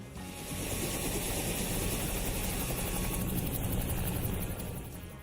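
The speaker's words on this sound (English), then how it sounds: "Helicopters are also perfect for hopping between yachts, mansions, and islands" A helicopter flies close and loud, its rotor thumping fast and steady under a constant engine whine for the whole stretch, with no voices.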